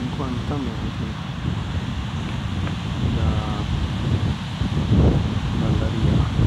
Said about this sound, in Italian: Si vede che prima della Doha le onde si infrangono e poi si infrangono una seconda volta dopo la Doha